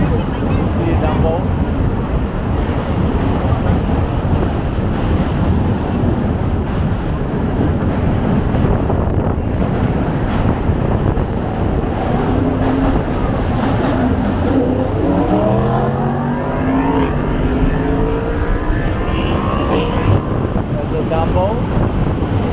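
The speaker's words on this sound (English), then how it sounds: "Hear louder noise because of Manhattan Bridge. And the train run over the bridge." Train rumbling across the Manhattan Bridge in New York City, heard from a tour bus: a steady, loud low roar with rising metallic squeal and screech tones toward the end, continuous throughout.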